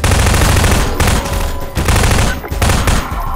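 Rapid automatic gunfire from a weapon in the video game Half-Life 2, loud and dense with near-continuous bursts and brief gaps, over a thick low-end rumble, with no talking.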